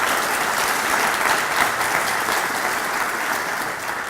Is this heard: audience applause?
yes